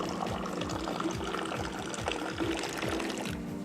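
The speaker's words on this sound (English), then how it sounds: "there is an art form as well to pour in Moroccan tea." Moroccan mint tea poured from a height into a glass, a steady close trickling stream with a faint rhythmic bubbling, heard alone without voices.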